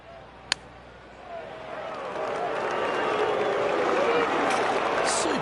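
A golf gallery erupts after an 8-iron approach: following a sharp click, applause and cheering swell and hold loud and broad from the crowd around the green.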